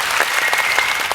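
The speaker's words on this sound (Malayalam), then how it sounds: "ആദ്യമേ തന്നെ ഒരു ഉഗ്രം കൈയടി കൊടുത്തേ" An audience on a televised comedy stage show claps loudly and continuously, a dense, close burst of applause with no voices over it.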